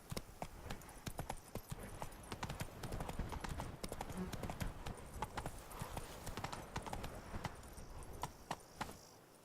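Horse hooves clip-clop steadily at a walk in The Witcher 3: Wild Hunt – Blood and Wine, a dense run of close, sharp hoof strikes with a brief whinny-like sound; someone speaks over part of it.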